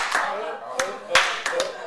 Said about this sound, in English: Now everybody clap your hands.